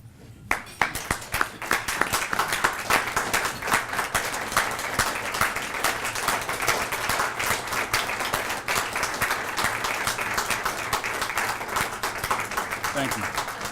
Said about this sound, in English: a standing ovation and a round of applause